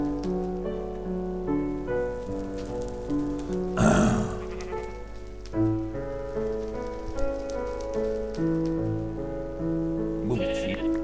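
Sheep bleat in a farmyard setting, wavering calls repeating over a steady background hiss that resembles rain, with a brief louder burst partway through and no talk.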